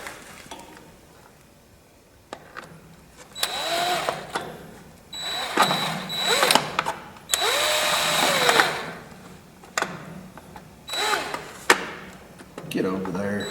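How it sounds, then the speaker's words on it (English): A power drill drives long screws down into the boards of a 35-year-old homemade trailer being restored, in several loud whirring bursts separated by pauses, with brief speech between runs. "use these here that I ordered to screw the boards down with"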